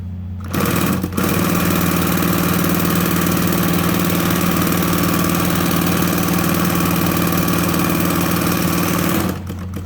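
A Consew 206RB-5 industrial walking-foot sewing machine runs steadily at about 1000 RPM, a loud continuous mechanical whir and rapid needle clatter that starts after a brief pause and stops abruptly near the end, with no talking.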